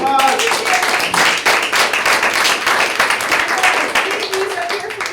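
Office meeting attendees break into a loud, sustained round of applause, dense clapping throughout with some voices mixed in.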